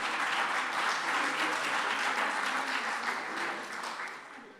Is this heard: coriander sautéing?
no